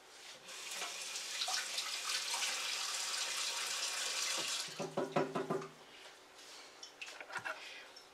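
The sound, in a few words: washing a cucumber under running tap water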